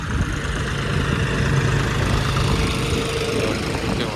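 A tractor engine runs steadily in a crop field, driven through the rows to cut weeds, a constant low rumbling drone with a vibrating mechanical texture, fairly close and continuous with no talk.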